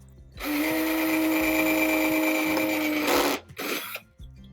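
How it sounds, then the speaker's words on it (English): A power drill whines steadily at high speed for about three seconds, boring a drainage hole in a plant pot, then stops with a couple of short bursts as it winds down. "so I'm gonna drill that really quickly so I can transfer it"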